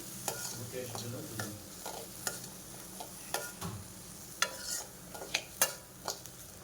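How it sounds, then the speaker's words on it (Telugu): Black-eyed pea snack paste being stirred and mixed in a bowl, a run of soft wet squelches and utensil taps in an uneven rhythm, close and quiet, with no one speaking. "అన్నిటికి పట్టే వరకు బాగా అట్లా కలిపి బాగా మిక్స్ చేసుకొని కలుపుకోవాలండి"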